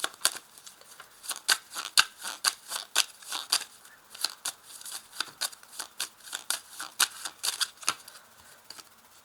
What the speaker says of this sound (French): Je vais maintenant prendre ce jeu de cartes